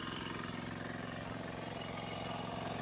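A tractor engine runs steadily in a muddy rice paddy field in Konkan during traditional rice planting, a constant droning chug with no pauses, close and continuous throughout.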